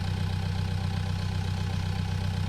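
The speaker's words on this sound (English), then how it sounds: "let's get the tractor out of here" A farm tractor engine idles in the video game Pure Farming 18, a steady low rumble with an even pulsing throb that continues unchanged and loud throughout.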